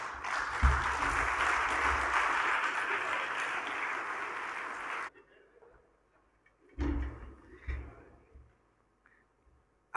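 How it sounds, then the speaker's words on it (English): Audience applause at a digital banking and fintech event in Ghana, a dense burst that cuts off abruptly around the midpoint, followed by a few faint thumps and a short clatter. "I hope that was just the rehearsal for the main applause."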